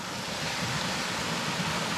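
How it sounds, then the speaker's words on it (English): Rushing water of the Hareshaw Linn waterfalls, a steady broadband roar of falling water heard continuously and fairly close, with no voices over it. "we'll just try and take in the beautiful waterfalls as we go along"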